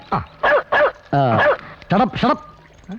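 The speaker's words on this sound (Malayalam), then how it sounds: "അതാരി? പട്ടി." A dog barks several times in a quick irregular run of sharp yips and whimpering barks, close and loud, in a comedy scene with no speech over it.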